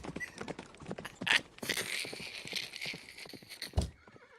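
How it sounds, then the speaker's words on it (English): A horse whinnies loudly in a long, wavering neigh, with hoof clip-clop and scuffling around it and a sharp thump near the end. "That horse was trying to get away."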